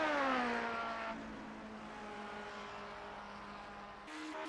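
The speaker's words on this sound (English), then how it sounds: "With the last few cars trickling over the start-finish line to end their race" Several race cars in the Grand Prix Legends sim at Monza cross the start-finish line, engine notes sweeping and fading as they pass, with a steady engine drone after and a fresh burst near the end.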